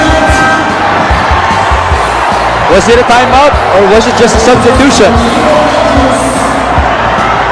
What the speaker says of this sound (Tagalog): the crowd is so loud that we're not even aware of what's happening at this point